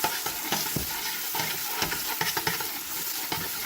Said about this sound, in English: So give that a stir.